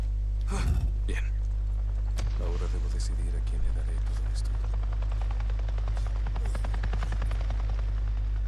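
A helicopter passes overhead in the video game Days Gone, a steady loud rotor drone and chopping beat filling the whole stretch, with a brief gasp and a few scattered noises over it.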